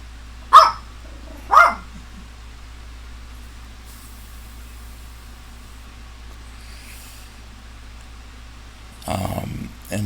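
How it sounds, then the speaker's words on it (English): Two loud, close barks from a pet dog indoors, spaced about a second apart, followed by quiet and then a brief rougher noise near the end. "Sorry about my dog."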